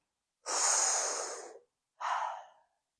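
Deep breathing exercise done through the nose during a guided meditation session: one long, strong inhale followed by a shorter breath, both close and clear with silence around them.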